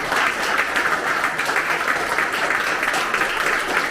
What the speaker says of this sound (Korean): 여러분들 맞다라고 하면 박수 한번 쳐주세요.